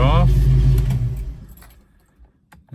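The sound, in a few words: Ford Mustang Foxbody engine being shut off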